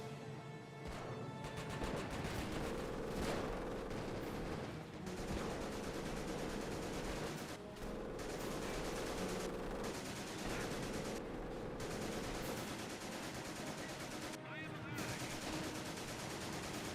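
Sustained battlefield gunfire from a strategy video game, a dense continuous barrage of rapid shots and machine-gun bursts with occasional heavier crashes, loud throughout with brief dips.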